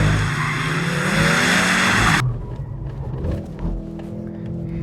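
A Mercedes-AMG C63 S wagon with 4MATIC drive, pendulum drifting on a wet track: a loud, steady roar of engine and spray-laden tire noise that cuts off abruptly, leaving a quieter rumble with scattered sputters.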